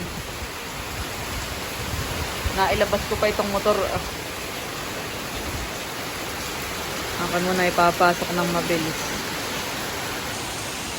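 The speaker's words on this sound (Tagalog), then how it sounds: "Lumakas pa po lalo ang ulan." Steady, dense hiss of heavy, strengthening rain with wind fills the whole recording, with someone speaking briefly twice in Tagalog over the downpour.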